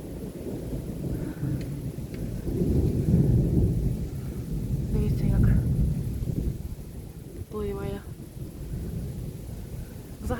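A summer thunderstorm in the Kyiv region brings deep, rolling thunder over steady rain and wind rumble, loud and continuous, with a brief voice toward the end.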